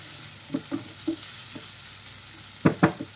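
Squid sautéing in a pan for a Kerala-style thoran makes a faint, continuous sizzle. A few clear scraping stir strokes stand out over it, with a pair of louder ones near the end, and there is no talk.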